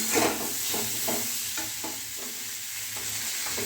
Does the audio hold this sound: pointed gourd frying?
yes